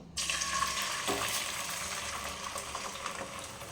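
An egg frying in oil like an omelette, a quiet continuous sizzle with faint stirring scrapes, heard close up with no speech.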